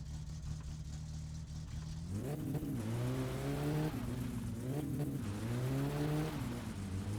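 A car with its muffler gone revs hard in the video game My Summer Car, a loud raw engine climbing and dropping in pitch through several throttle blips after a steadier opening drone.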